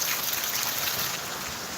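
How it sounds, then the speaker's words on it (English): Steady rain falls outdoors, a dense, continuous hiss of drops that stays moderately loud and fairly close throughout, with no one talking. "it is raining so pretty out here"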